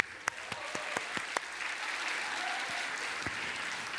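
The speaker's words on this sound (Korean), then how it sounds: "박수 한번 쳐주세요." A church congregation at a Sunday morning service applauds, a steady wash of clapping with a few sharper nearby claps standing out over four seconds, no voices over it.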